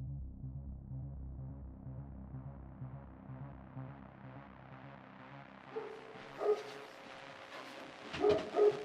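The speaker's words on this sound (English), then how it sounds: "Dogs. Always barking." Space dogs barking in a video game, heard as a rhythmic, throbbing run of synthetic barks that gradually rises in pitch, followed by a few louder yips near the end.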